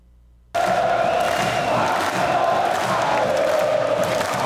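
Flamengo supporters roar and cheer in a packed stadium at Kleber Andrade during a Campeonato Carioca match, a loud, dense crowd din that bursts in after brief quiet and holds steady.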